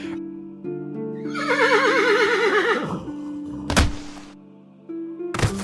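A horse in an audio drama whinnies loudly with a wavering, trembling neigh, followed by a sharp thud and then a second heavy impact near the end, all close and without speech.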